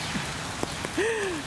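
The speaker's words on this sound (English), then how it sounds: "it's pouring and it keeps thundering and lightning" Steady heavy rain pours outdoors in Saddler's Woods during a warm thunderstorm, a dense continuous hiss of drops on surfaces with a few sharper drips and a faint whistling tone near the end.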